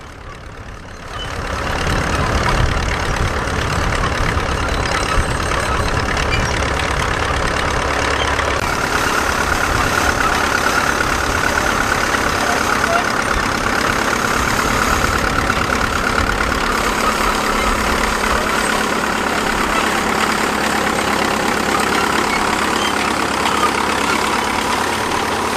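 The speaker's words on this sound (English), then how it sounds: "A little TD6 International crawler with the petrol start diesel run engine in it." An International TD6 crawler tractor with a petrol-start, diesel-run engine works a three-furrow International plough at a rally, its engine droning steadily and loudly close by for the whole stretch after a short quiet start.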